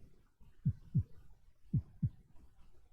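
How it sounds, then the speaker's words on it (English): Heartbeat sound effect on a game show: four low thumps in two lub-dub pairs, fairly close and moderately loud over a quiet background with no talking. "Stop heartbeat."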